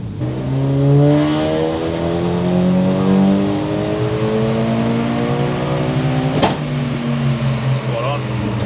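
A Mitsubishi Evo 9 making about 360 horsepower screams on a dyno, its pitch climbing steadily through a long, loud pull, with a sharp pop near the end.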